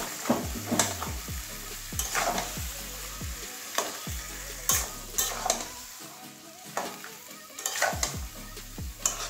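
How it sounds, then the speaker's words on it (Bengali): A spoon stirs fish head and jackfruit curry in a sizzling frying pan, with regular scraping strokes roughly every second over a steady close fry. "এবারে ভালো করে মিশিয়ে দেবো।"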